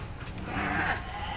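Sheep at a busy sheep market in Padarang give a short bleat that rises above the steady crowd and yard noise of the sale.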